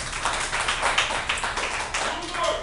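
A crowd at a spoken-word and slam show claps for cigarette smokers, a dense, steady patter of hands lasting a few seconds with voices mixed in.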